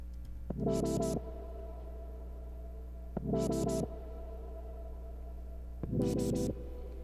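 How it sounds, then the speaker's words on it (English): Three short bursts of a vocal sample run through an auto filter, buzzy and evenly spaced over a steady low hum, each swelling briefly with a sweeping, warbling tone. "the same vocal sample that I added some effects to"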